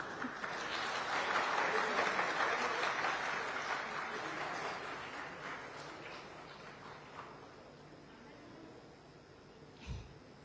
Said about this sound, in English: with a big round of applause, please welcome Chief Minister of West Bengal, Ms. Mamata Banerjee.